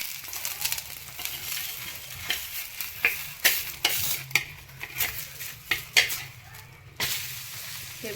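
Methi paratha frying in oil on a pan, a steady low sizzle running under repeated spatula scrapes and clinks against the pan, close and fairly quiet, with no voices.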